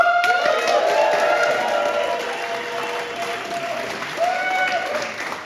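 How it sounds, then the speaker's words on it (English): A comedy club audience at XS Malarkey in Manchester applauds in a dense, sustained round of clapping, with faint crowd voices and a few whoops mixed in under the steady noise. "could I trouble you guys for one more round of applause, please?"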